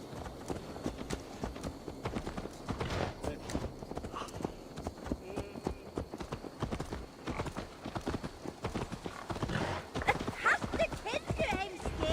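Horse hooves clip-clop steadily in Assassin's Creed Valhalla as a mare is ridden back, a dense rhythmic trot running the whole time under frequent speech, with a faint neigh.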